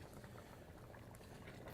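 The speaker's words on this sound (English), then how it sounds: "See how it's bubbling?" White chili simmers and bubbles in a pot on the stove, a soft, steady stream of small pops and gurgles held at a constant low level with no voices.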